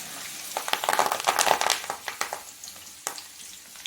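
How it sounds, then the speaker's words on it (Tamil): Chopped onions and curry leaves hit hot oil for a tomato thokku, crackling and spitting loudly at first, then easing into softer, scattered pops. "வச்சுட்டு வெங்காயம் நல்லா வதங்கி வர வரையும் வெயிட் பண்ணணும்."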